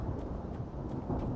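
Thunder rumbles low and heavy in the Alan Wake video game during a lightning storm, with rain hissing steadily underneath and no one talking.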